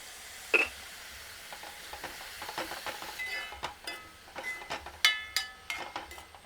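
Green chilli, ginger and garlic sauté with salt in a pan, a faint sizzle under uneven, close clinks and scrapes of a spoon against metal that grow busier toward the end.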